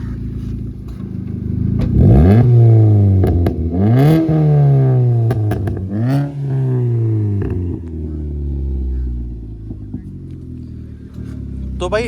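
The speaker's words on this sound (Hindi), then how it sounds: "तो भाई एग्जॉस्ट में जैसा देख सुन पा रहा हूँ भाई, थोड़ा बेस वाला है इसमें" Modified 2020 Maruti Swift VXi with a free-flow catback exhaust, revved three times in quick sharp rises that sweep up and fall back, then settling into a deep bassy idle rumble, loud and close, with some voices in the background.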